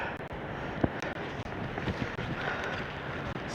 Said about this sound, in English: Look here, the wind.